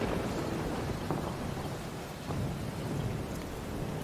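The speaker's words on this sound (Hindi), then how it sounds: "बाहर इतनी जोरों से बारिश हो रही है" Heavy monsoon-style rain pouring outside with rumbling thunder, a loud continuous roar of rainfall and low rolling booms that fill the whole stretch, no voices present.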